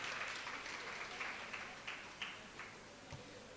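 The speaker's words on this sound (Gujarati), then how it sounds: "તો એકવાર બંનેને આપણે તાળીઓના ગડગડાથી વધાવી લેવા જોઈએ." Audience applause honoring two people at a memorial tribute gathering, a steady wash of clapping from a crowd with a few sharper claps standing out, moderately distant and fairly faint, no talking over it.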